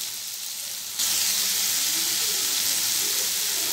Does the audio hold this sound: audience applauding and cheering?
no